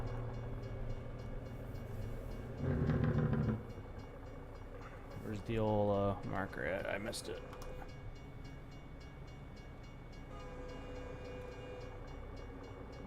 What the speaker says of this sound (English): you go ahead and honk your little trainy horn at me